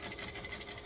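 A sewing machine stitches and back-stitches fabric with a fast, even mechanical whir and rhythmic needle pulse, faint and close, with no voices.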